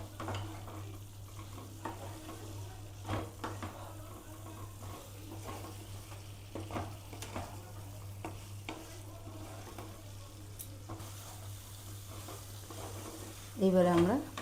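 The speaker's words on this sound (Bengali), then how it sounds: "মশলাটা কষা হয়ে গেছে আলুর সাথে" Potatoes frying with masala spices in a pan for an egg and potato curry, a steady soft sizzle with stirring scrapes running throughout under a low hum, ending in a brief louder clatter.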